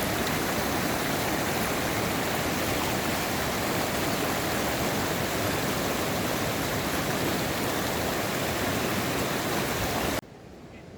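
Waterfall at Slate River Falls roaring as a steady, loud, broadband rush of falling water close by, continuous and unbroken for about ten seconds before cutting abruptly to a quieter background.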